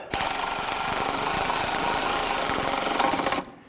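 A bolt being snugged down on the washer fluid reservoir of a 2006-2014 Honda Ridgeline, giving a close, loud, steady rapid rattling like a power driver that runs about three seconds, then stops abruptly.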